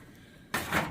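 A single solid thunk of an oven door shutting partway through, after quiet kitchen room tone, followed by a brief rattling settle.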